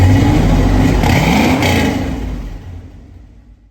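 A loud, deep 1986 Ford F-250 pickup engine with a new exhaust revs up with a rumbling exhaust, then settles and fades as the throttle drops off.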